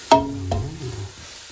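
Ginger being sautéed in a pan for Caviteño-style papaitan, heard as two quick stirring scrapes with a soft sizzle underneath, close and brief, no talk.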